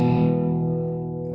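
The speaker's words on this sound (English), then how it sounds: "Here's the distortion all the way up." An Epiphone Les Paul electric guitar with 1950s-style vintage wiring and PAF pickups rings out a single heavily distorted chord at full gain, loud and sustained, decaying over about a second.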